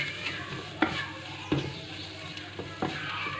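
Shredded boiled chicken being stirred in a pan for samosa filling, with several distinct spoon scrapes spaced irregularly over a soft background sizzle, close and moderately loud.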